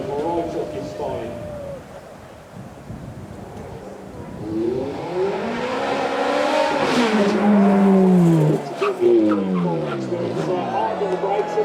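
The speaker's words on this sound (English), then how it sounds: "Now we see the Ferrari F430, which was the successor to the 360 that you saw earlier." A Ferrari F430 with a 4.3 litre V8 revs hard at a supercar event, pitch climbing in long sweeping rises to a loud, screaming peak before a sharp drop, then more rising bursts as the car accelerates away.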